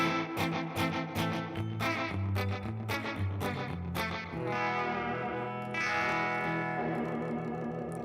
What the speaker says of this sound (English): So we got the echo, and I turn the reverb on,